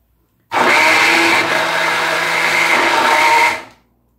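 Blender grinding about a dozen almonds, a loud steady whirring that starts abruptly, runs about three seconds with a slight dip in pitch, then cuts off.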